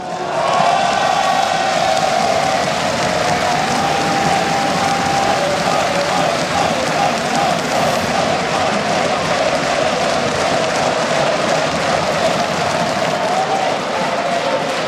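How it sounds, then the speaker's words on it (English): A large crowd at a StarCraft 2 esports tournament, IEM Katowice 2014, cheers and applauds continuously in a big arena, a dense loud roar with shouting voices that holds steady for the whole stretch. "They're shouting your name."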